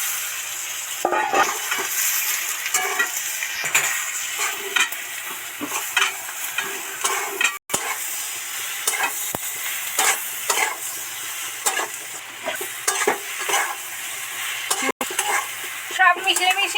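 Pointed gourd (potol) pieces tossed into hot onion-and-spice oil and stir-fried, a steady sizzle broken by repeated scraping strokes of a spatula against the pan, close and continuous throughout without talk.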